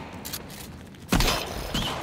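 Gunfire in the survival video game Sons of the Forest: a sharp, heavy burst lands midway, followed by a second shot, over a noisy in-game background with no talk.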